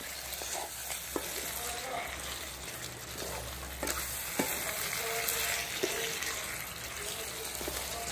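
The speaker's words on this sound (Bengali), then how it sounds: "এখন আমি মশলার সাথে মাংসটাকে কিছুক্ষণ কষিয়ে নেব।" Chicken pieces fry with spices in a pan for a coconut chicken curry, making a low, constant sizzle with occasional spatula clicks and scrapes, fairly soft and continuous throughout.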